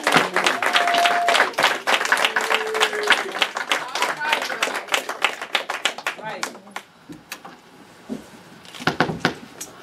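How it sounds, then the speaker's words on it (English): A church audience at an Easter skit claps loudly for the children in a dense burst of applause that thins out and fades, then briefly picks up again near the end. "Let's give the kids a round of applause for a good job."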